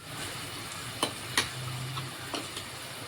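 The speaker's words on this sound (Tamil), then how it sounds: "கொஞ்சம் வெங்காயம் போட்டுக்கலாம்." Onion frying in hot oil with fenugreek seeds and curry leaves, a quiet even sizzle broken by a few distinct stirring scrapes, close by with no voices.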